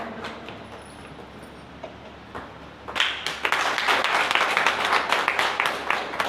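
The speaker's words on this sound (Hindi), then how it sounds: "जोरदार तालियों से स्वागत करें" A crowd at a ceremony breaks into loud, sustained applause to welcome a guest who is being garlanded. Scattered claps come first, then the clapping swells and holds steady to the end.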